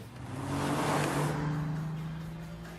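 A 2002 Ford Mondeo ST220 with a 200-horsepower V6 engine driving past, its engine note swelling to a peak and fading as it moves by, no talking.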